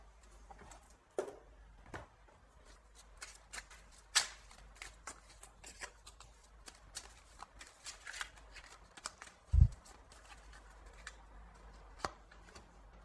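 Oracle cards are shuffled by hand in soft, quick riffling patters that come in uneven bursts, close and fairly quiet, with an occasional tap or thump and no talk.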